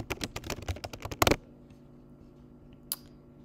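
A run of rapid keystrokes on a computer keyboard typing a folder name, close and crisp, ending in a quick burst, then near silence broken by one last faint key tap.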